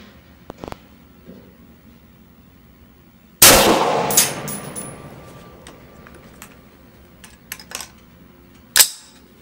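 A Wilson Combat Super Sniper rifle in 6.5 Creedmoor fires at targets outdoors. Two loud, sharp cracks land several seconds apart, each with a ringing, slowly fading tail, and faint clicks and taps fall between them.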